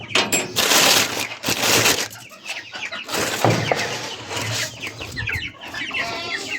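Hens cluck and squawk close by in a farmyard as they are scattered wheat grain, bursts of agitated clucking rising and falling with short quiet gaps, no talk.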